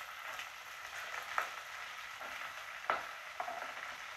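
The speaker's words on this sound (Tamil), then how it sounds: "பீன்ஸு, எல்லாத்தையும் சேர்த்து வதக்கிக்க" Carrots, beans, onion and green chillies sauté in hot oil in a pan for vegetable biryani, giving a steady close sizzle broken by a few sharp scrapes and clinks of stirring.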